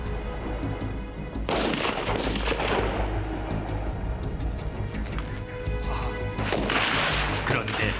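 Gunfire at an army infantry unit's rifle shooting practice, loud repeated bursts of shots echoing across an outdoor range, heaviest in two clusters with a steady low rumble between.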